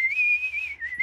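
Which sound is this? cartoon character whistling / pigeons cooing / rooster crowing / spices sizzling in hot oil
cartoon character whistling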